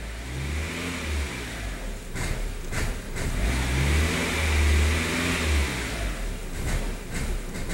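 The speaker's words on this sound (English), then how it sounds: "now I'm going to rev it up a little bit" A 1999 VW Passat with a 1.8L turbo engine and a faulty mass air flow sensor revs up close by, the engine note rising and falling in a few uneven surges over a rough idle, with no talking.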